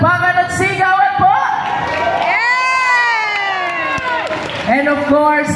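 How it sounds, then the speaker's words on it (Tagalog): Loud, continuous crowd cheering, shouting and whooping with clapping at an outdoor political rally for a congresswoman, sustained and close throughout with high excited voices. "Malakas na palakpakan at sigawan po!"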